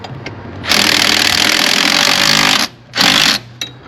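A power tool tightening the last bolt on a boat's hydraulic jack plate, a loud buzzing whir for about two seconds, then a shorter burst and a brief final blip.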